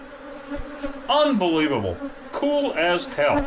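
European honeybees drone steadily around a comb-built hive, a continuous close buzz running under excited voices talking over it.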